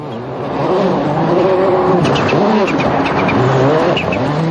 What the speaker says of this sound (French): François Duval aussi est parti vite